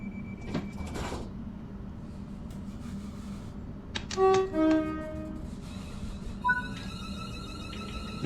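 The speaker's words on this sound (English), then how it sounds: "Shutting doors." Door-closing warning tones on a ScotRail Class 380 Desiro electric train in a simulator game, a short run of clear stepped beeps over a steady low cab hum, followed by a brief higher chime.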